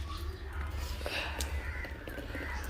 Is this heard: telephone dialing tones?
no